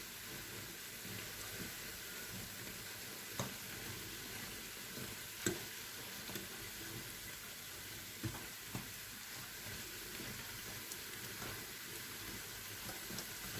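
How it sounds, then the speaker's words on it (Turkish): Hurma tatlısi (Turkish date dessert) dough fries in hot oil, a soft, continuous sizzle and bubbling at a low level with a few faint taps of a utensil now and then. "Öyle her yerine kontrol ede ede kızartacağız arkadaşlar."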